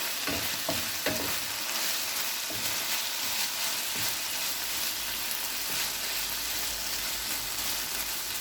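Chicken macaroni fries over a medium flame with a steady, close sizzle, and a few quick scraping clatters of stirring near the start before the hiss continues evenly and alone.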